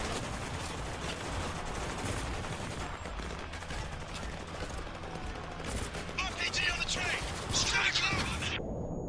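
Gunfire in the Spec Ops: The Line shooter, dense bursts of shots and impacts filling the whole stretch, with a sharper cluster of cracks near the end.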